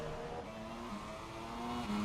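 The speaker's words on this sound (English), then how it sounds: "as we've got Selangville here crossing the line to start his first hot lap in Q2" A Formula 1 car crosses the line to begin a hot qualifying lap at Baku, its engine holding a steady high-pitched drone that gradually rises in pitch, with no talk.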